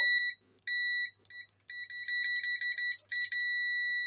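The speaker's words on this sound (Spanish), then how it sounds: "el pitido que nos indica que hay continuidad entre los dos terminales" A digital multimeter's continuity test gives a high electronic beep in repeated bursts, some short and some sustained, clear and close with quiet gaps between.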